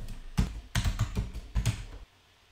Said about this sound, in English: Let's head on over to my blog site and we'll type in last row